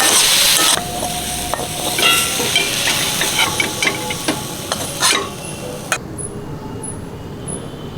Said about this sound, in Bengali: বাঁশপাতা মাছটা ভেজে নিচ্ছি